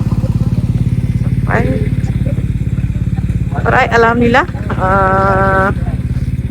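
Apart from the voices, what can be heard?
motorcycles idling on arrival at riverside stop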